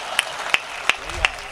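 Clapping from the audience at a Hindi comedy poetry show comes as four evenly spaced, crisp claps in unison, each a sharp slap over a low murmur of the room.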